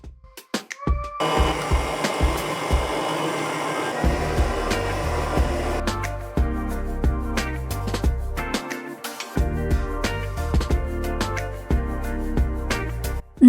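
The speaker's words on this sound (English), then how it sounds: "I'm gonna do this in a KitchenAid, but you can just whisk it bare hand" A KitchenAid stand mixer runs steadily while combining wet and dry ingredients for a gluten-free almond tartlet batter, a continuous motor whir with tonal music playing alongside throughout.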